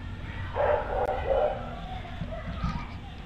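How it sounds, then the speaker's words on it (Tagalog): A dog at a small resort in Trece Martires, Cavite gives a few quick yips and barks at moderate distance over steady outdoor background noise. "Uy, may aso."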